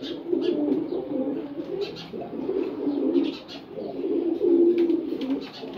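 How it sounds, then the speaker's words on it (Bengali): A pair of silver gorra pigeons coo close by in a steady, repeated rhythm of soft throaty phrases, with no voices present. "খুবই ফ্রেন্ডলি কবুতর ওরা"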